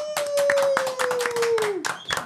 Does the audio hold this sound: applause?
yes